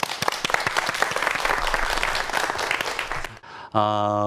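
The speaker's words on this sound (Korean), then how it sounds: "박수 부탁드립니다." An audience at a lecture on science in architecture gives a round of sharp, dense applause that breaks off abruptly near the end, followed by a brief sustained tone.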